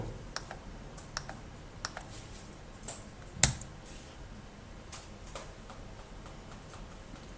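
Keys clacking on a computer keyboard while a command is typed into a Git terminal, a quiet, irregular run of close clicks with one sharper tap standing out, no voices present.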